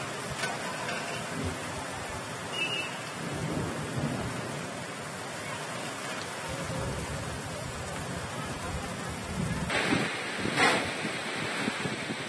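Heavy rain with hail and strong wind in Ilkal, Bagalkote, a dense, continuous roar of downpour and gusts throughout, swelling louder near the end.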